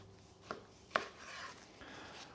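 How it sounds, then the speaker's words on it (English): A big knife slices through homemade smoked Canadian bacon on a board, giving two quiet, close knocks followed by soft scraping and rubbing of the blade through the meat, with no talking. "So let's start cutting this up and we'll see what it looks like."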